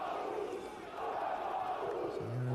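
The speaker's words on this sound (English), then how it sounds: "A Waipahu chant from the crowd, his hometown here in Oahu." A crowd at a 1996 Oahu wrestling championship match chants for a Waipahu hometown wrestler, a steady roar of many voices that holds throughout at moderate distance.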